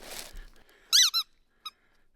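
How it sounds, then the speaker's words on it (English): A squeaky toy duck wearing a little scarf gives two sharp close squeaks followed by a shorter third, after a brief rustle, in an otherwise quiet room. "squeaky duck. Look, it's got a little scarf on him."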